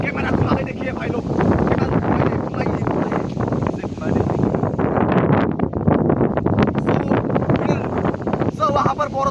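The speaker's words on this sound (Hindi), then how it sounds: "वहाँ पर बहुत ताज़ा हवा चल रहा है" Wind blows steadily in an outdoor village, a loud, continuous roar with heavy buffeting against the microphone that covers the whole stretch. Someone talks over the wind throughout.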